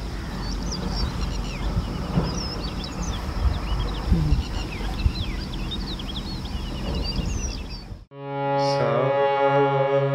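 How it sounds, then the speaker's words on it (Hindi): Birds chirp at dawn beside the Chenab River near Kishtwar, with scattered small calls over a rough, noisy outdoor background, before an abrupt shift to a steady tonal hum at the end. "परिंदों की चहचहाहट की सूरत कुदरत की बोलियां"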